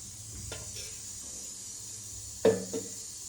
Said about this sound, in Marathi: आपली कढई आता गरम झाली आहे. त्याच्यामध्ये मी 1 चमचा तेल टाकते